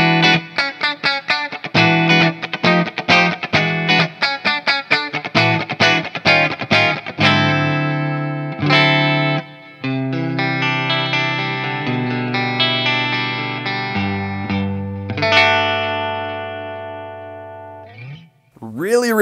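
A Telecaster electric guitar with bipolar pickups, neck and bridge combined, plays through effects, starting with quick, choppy strummed chords and moving to sustained, ringing notes with a bend at the end.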